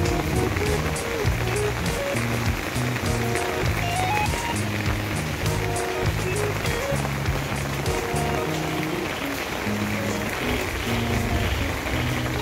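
Steady rain falls on a garden of potted desert rose plants, a dense, even hiss that runs the whole time, with a repeating low melodic tune underneath.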